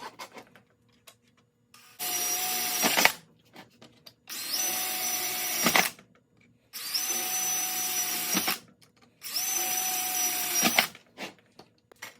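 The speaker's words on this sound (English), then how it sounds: "We got a nice scratched circle, which we'll go ahead and drill now." A power drill whirs into a steel .50 cal ammo can in four separate bursts, each about a second long, with short quiet pauses between them.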